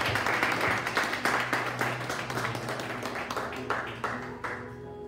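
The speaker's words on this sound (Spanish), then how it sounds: "Dale un aplauso fuerte a Jesús" A church congregation applauds loudly for Jesus during a worship service, dense sustained clapping filling the room with a few sharper claps standing out and no talk over it.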